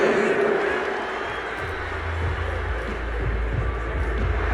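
A large football stadium crowd at an NFL game, Jets versus Rams, roars in broad, continuous disapproval after a penalty flag, a dense wash of voices with deep rumbling underneath that rises in the second half.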